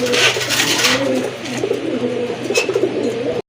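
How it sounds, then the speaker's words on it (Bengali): Pigeons coo softly and repeatedly at close range in low, throaty warbles, with a few brief bursts of rustling or fluttering. "খুবই ভালো মানের এক জোড়া কবুতর"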